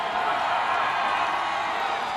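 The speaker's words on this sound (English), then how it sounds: "Crowd getting into it on the Winston-Salem State side here in Durham County Memorial Stadium." A college football crowd roars steadily at Durham County Memorial Stadium during the CIAA championship, the Winston-Salem State side cheering in a broad, sustained wash of noise with no clear breaks.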